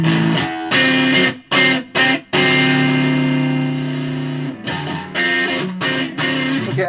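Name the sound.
guitar through distortion pedal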